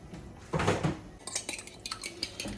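Eggs beaten with a whisk in a bowl, first a soft swishing burst, then quick, light metallic clinks in an uneven rhythm, close and fairly quiet.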